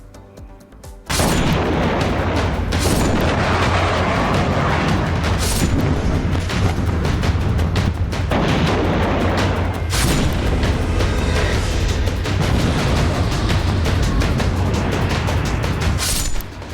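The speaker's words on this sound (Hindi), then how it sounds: "लेबनान के अल जबोर हाइट्स पर धमाका।" Heavy booms and blasts from air strikes on Lebanon's Al Jabour heights erupt repeatedly over a continuous roaring rumble, some sharp cracks standing out loudly every few seconds.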